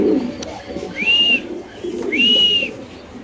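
Damascene pigeons at a pigeon farm give low, soft coos in two close bursts, each paired with a thin rising whistle-like tone, with quiet room noise between them.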